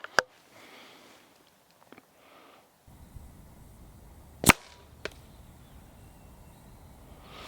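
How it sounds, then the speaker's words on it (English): A CZ 457 stainless synthetic .22LR rifle fires one sharp, fairly loud crack outdoors, followed moments later by a fainter secondary snap, with quiet ambient sound before and after. "take a couple more shots and see where that"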